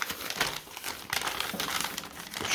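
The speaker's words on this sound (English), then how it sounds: "then we got a paper bag" A paper bag crinkles and crackles up close as it is opened, in uneven bursts of rustling with no voices.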